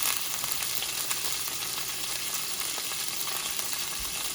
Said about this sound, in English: So I'm going to let that simmer